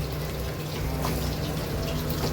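Tap water runs steadily over ripe red chillies being rinsed, a close continuous gush and splash filling the whole short stretch with no speech.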